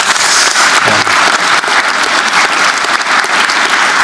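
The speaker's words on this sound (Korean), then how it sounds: "박수 한번 줘보세요 한번." A large audience at a Korean public address claps loudly and densely, packed close together. The applause holds steady throughout, with no talking over it.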